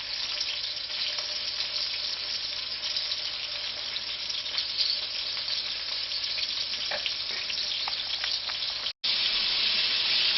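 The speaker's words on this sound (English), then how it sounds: "just kind of let that hot oil sear it up a little bit" Elk liver dredged in flour sears in hot oil in a pan, a steady close sizzle and crackle of frying that runs on alone with a brief drop near the end.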